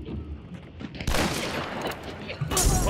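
Distant gunfire in the video game Hunt: Showdown, a sudden loud broadband burst around one second in that rolls on, then another blast near the end, with faint low-level game ambience before it.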